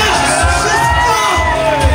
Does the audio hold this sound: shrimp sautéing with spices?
no